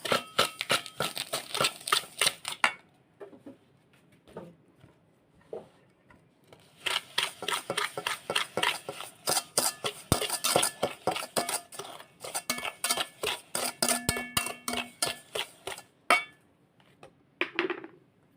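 Egg and sugar being whisked in a bowl, rapid rhythmic clinking of the whisk against the sides in long steady runs with a brief pause partway, close and clear with no talking.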